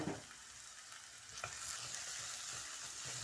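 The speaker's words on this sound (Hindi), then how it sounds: "अब मैं प्याज डाल दिए और जैसे ये गोल्डन होता है, हाफ डन" Onions fry in a pan with a soft, constant sizzle and a few light stirring scrapes, heard quietly and alone.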